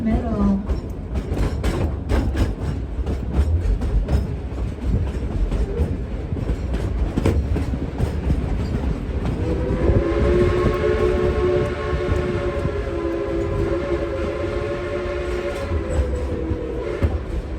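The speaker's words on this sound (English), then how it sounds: "is a genuine coal-fired, steam-driven Type 282 locomotive" A genuine coal-fired, steam-driven Type 282 locomotive pulling the Dollywood Express ride in Pigeon Forge, Tennessee: rumbling cars and clattering wheels close by, then a sustained whistle sounding for several seconds over the steady rolling noise.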